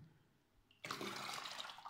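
A toilet flush bursts in suddenly after a near-silent start, a loud, close rushing of water that continues steadily to the end.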